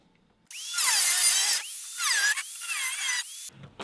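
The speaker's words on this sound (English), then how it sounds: "All I gotta do is just roughly cut out a piece of steel that'll cover this hole right here" A power tool cuts a rough piece of steel for an EGR delete plate, starting at half a second with a loud, shrill metallic whine whose pitch bends and dips under load across about three seconds, then cuts off.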